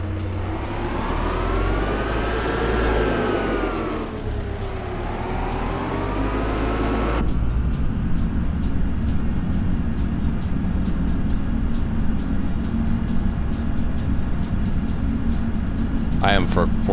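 A forklift engine driving in Farming Simulator 2025, a steady low motor drone with revving pitch sweeps early on, then a constant rumble with a brief clicking at the end.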